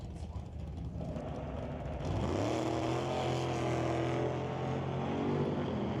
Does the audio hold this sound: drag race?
yes